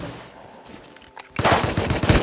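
Gunfire in the survival game Rust bursts in loudly after a quiet, murky lead-in, a rapid cluster of close shots filling the final second.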